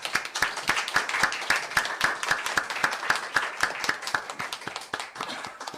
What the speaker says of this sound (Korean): 우리 부활하신 주님께 감사의 영광의 박수를 우리 함께 올려드리시겠습니다